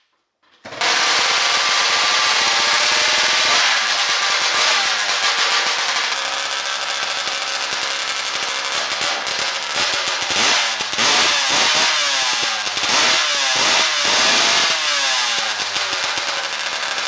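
Supreme 80cc gas engine on a toy vehicle with a blown transmission, running loud and close with a buzzy, rattling tone and repeated revs that rise and fall in pitch.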